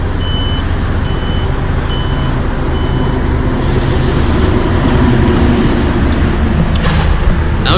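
An Alfa Romeo Stelvio's power tailgate closes to a series of short, evenly spaced warning beeps over a loud, steady idling background, ending with a soft latching thump near the end.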